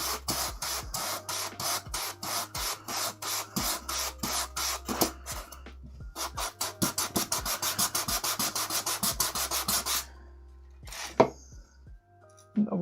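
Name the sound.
sanding a terrain model piece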